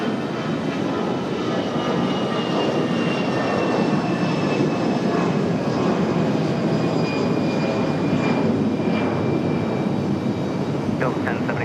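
An American Airlines jet arriving from Charlotte roars steadily overhead for the whole stretch, loud and close, its engine rumble broad and continuous with a faint thin whine riding on top.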